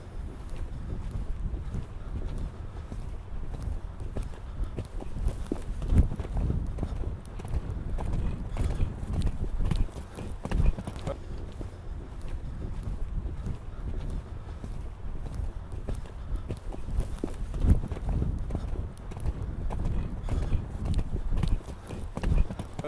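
A horse moves over a show jumping course, hooves clip-clopping steadily on the ground with wind noise on the microphone and a faint voice now and then.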